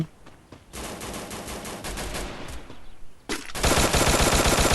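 Rapid automatic gunfire in the Free Fire battle royale game, with dense close bursts of shots, a short pause, then an even louder sustained volley toward the end and no talking.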